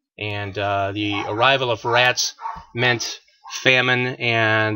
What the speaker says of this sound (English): Pardon my dogs barking in the background here.